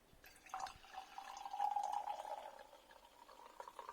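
Somerset keeved cider from Pilton being poured into a glass: a soft, steady liquid trickle that swells and then tapers over a few seconds, quiet and close, with no talking.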